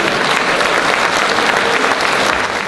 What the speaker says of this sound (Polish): bo były brawa cudowne, niewyreżyserowane dla pana Stasia